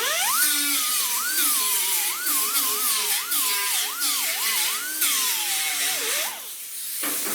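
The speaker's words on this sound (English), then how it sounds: "I grind her down." A high-pitched grinder whines and wavers as it grinds down welded body repair on a 1966 Buick Wildcat GS, steady and close with rising and falling pitch, then drops off at the end.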